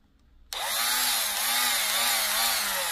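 A Lidl X12V 12V cordless power tool spins up abruptly after a brief quiet moment and runs steadily and loudly on a new battery, close by with a high motor whine and no talking.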